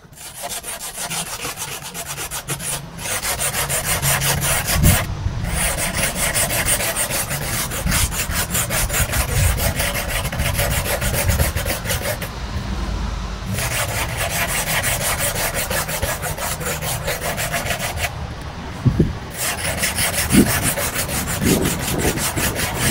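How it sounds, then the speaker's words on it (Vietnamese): A hacksaw blade scrapes along the rim of a plant pot in a steady, continuous rasp, loud and close, with brief pauses between strokes. "Thì các bạn dùng cái lưỡi cưa sắt này nè, mình cạo miệng trước nha."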